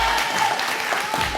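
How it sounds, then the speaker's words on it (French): Audience applause for two school slam performers at a collège slam workshop, a dense continuous burst of clapping throughout, fairly loud and close. "Faites un tonnerre d'applaudissements pour Mathilde sans H et Logan avec un E, on peut les applaudir"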